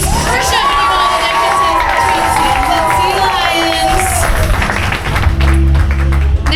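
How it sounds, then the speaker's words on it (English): An audience at a sea lion show in a Destin, Florida marine park claps, cheers and shouts loudly, children's voices rising over it, with a deep rumble near the end. "Why don't you guys give a big round of applause for your captains"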